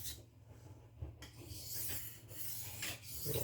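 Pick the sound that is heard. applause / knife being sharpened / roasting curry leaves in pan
knife being sharpened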